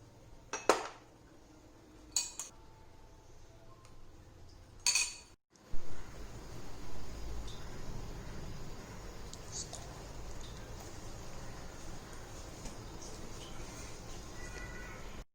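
Pasta payasam spooned into a cup, heard as a few sharp clinks of a spoon against the cup and dish, followed by quieter soft scraping and shuffling in a kitchen.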